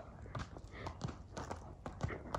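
A horse's hooves clip-clop in a quick, uneven rhythm at a Kyrgyz horse market, close and fairly clear with a few strikes per second and little talk.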